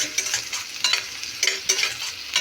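Ginger-garlic paste frying with golden-browned onions for an egg gravy masala, a loud close sizzle with repeated scraping stirs of a spoon through the pan at an irregular pace, no voices.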